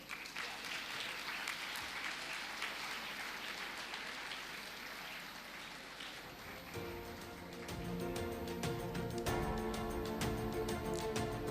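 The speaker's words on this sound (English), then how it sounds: "Audience, kindly applaud the recipients" At a scholarship award ceremony, an audience applauds the recipients with sustained, even clapping, and music joins partway through.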